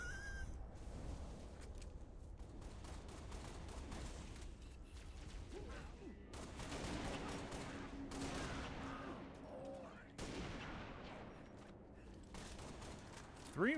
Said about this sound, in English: Three rounds of the sniper rifle